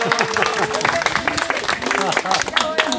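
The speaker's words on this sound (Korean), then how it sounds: "박수 한번 해주세요." Children at an outdoor arboretum gathering applauding together, a dense burst of close clapping running steadily throughout, mixed with voices talking.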